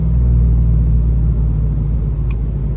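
A Chevrolet Silverado with a 6.2 V8 and cat-back straight pipe exhaust downshifts on the road, a loud, steady low rumble filling the cabin with slight swells in engine tone.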